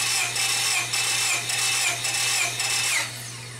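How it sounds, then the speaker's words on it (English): Honda Civic four-cylinder engine cranking over on its starter with the spark plugs removed for a compression test, a close, loud, steady whirring with a quick rhythmic pulse, running about three seconds before easing off, with no talk. "Now it's gonna sound different because we don't have any spark plugs in."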